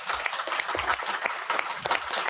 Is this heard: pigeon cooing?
no